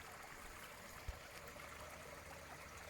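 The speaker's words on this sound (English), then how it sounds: "We got a creek here." A small creek flows steadily nearby on an outdoor walk, a soft continuous trickling and babbling of water with no talk over it.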